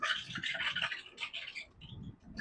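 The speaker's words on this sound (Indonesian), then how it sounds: "Ini suara spakbor gesrek dengan ban ya, kotoran ban, debu-debu." Motorcycle fender scraping against the tire, with dirt and dust caught between them on a Polytron Fox R electric motorcycle, a quiet gritty rubbing scratch that pulses unevenly throughout.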